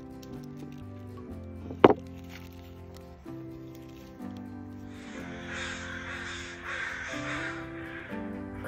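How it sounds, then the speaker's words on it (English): Several crows caw repeatedly in the background over a quiet musical tone, with one sharp click early on. "Crows have something to say."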